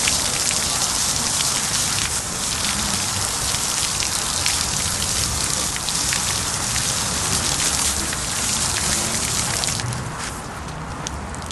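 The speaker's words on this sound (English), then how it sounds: "So I have the filter flosser attachment here on my hose, and I'm going to take the filter here. I'm going to rinse it out really well." Garden hose fitted with a filter flosser attachment rinsing a Bullfrog spa filter, giving a steady, close, loud hiss of spraying water that runs continuously and eases slightly near the end.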